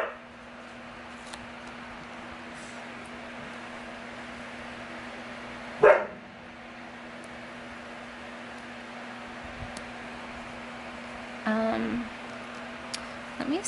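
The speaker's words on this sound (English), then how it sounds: "Rona, no bark, please" A dog gives one short, loud bark indoors, then another fainter bark or yip a few seconds later, over a steady electrical hum and quiet room noise.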